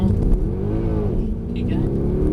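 Mercedes car driven flat out in a straight line, its engine a steady loud roar with rising harmonics close by, a brief high whine appearing near the end.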